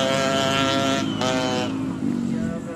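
Race vehicles speed around the Transera track at night, a loud, close engine roar with harmonic whine that shifts pitch as machines pass, one surge fading and another rising.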